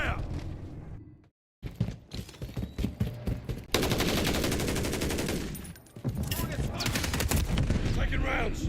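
Rapid automatic gunfire bursts in Call of Duty Modern Warfare III multiplayer on the Tokyo map, loud and close, with a brief silent gap and then sustained dense firing and impacts.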